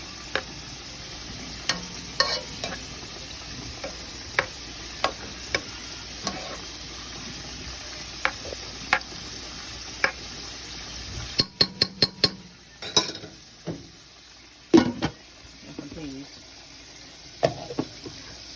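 Cube steaks fry in a pan with a steady, close sizzle, broken by frequent sharp clinks and scrapes of a utensil stirring and turning the meat.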